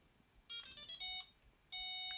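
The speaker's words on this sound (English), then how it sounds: "that's been paired because it makes the and then it does the anti-theft sound, and that confirms that the receiver's paired with something" A Delkim bite alarm receiver sounds its pairing tone: a few quick high electronic beeps, then a brief pause and a steady, loud sustained anti-theft tone that carries to the end, with no voices.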